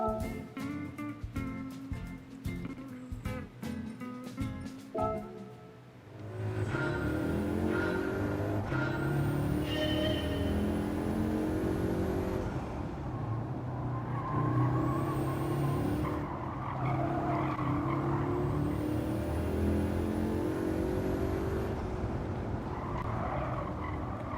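A racing car engine in Gran Turismo 7 on PSVR 2 sweeps through the Circuit de la Sarthe, opening with clicky menu-like ticks before a steady, loud engine drone rises and falls through gear changes and long straights.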